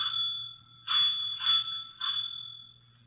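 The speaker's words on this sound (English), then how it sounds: "you had better ring the doorbell" A doorbell rings in a 1950s NBC radio drama, a bright steady bell tone sounding in three or four close pulses over a low hum, fairly loud and with no voices.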